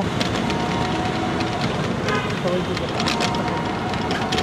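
A Dhaka metro rail train runs between Mirpur 10 and Uttara, heard from inside as a dense, steady rumble and rush of wheels and air at high level, with faint clicks over it.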